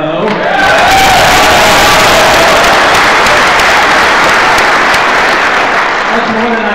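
Loud, dense applause and cheering from a crowd of about 100 to 200 students at Boise State swells in and holds steady, with occasional whoops rising above the sustained clapping.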